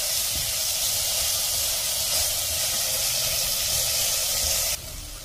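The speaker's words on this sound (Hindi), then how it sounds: "आप इसमें पूरी प्याज डाल दीजिए और इसको थोड़ा सा लाल होने तक भून लीजिए।" Chopped onion fries in hot oil in a pan for dal, giving a loud, close, steady sizzling hiss that softens abruptly near the end.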